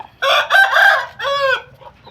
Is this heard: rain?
no